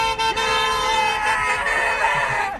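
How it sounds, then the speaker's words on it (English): A car horn gives a loud, continuous honk lasting a couple of seconds, clear and nearby, over faint background noise. "JP, you got a honk over there."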